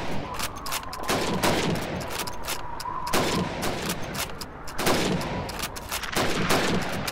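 Rapid rifle shots fired at helmet targets in the Call of Duty 2 training range, several loud sharp cracks in quick bursts with echoing tails, no voices.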